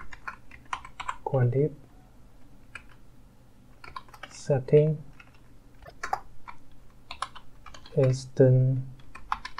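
Computer keyboard typing comes in quick bursts of crisp key clicks between stretches of someone talking while setting up a coding session, the keystrokes close and clear.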